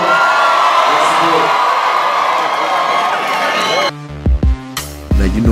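Party crowd cheering, whooping and shouting in a loud, dense roar that breaks off near the end into a few separate voices and noisy bursts.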